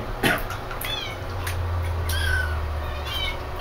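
A kitten meows repeatedly in a bathtub, giving several short, fairly loud cries and one longer drawn-out mew, with faint background noise between them.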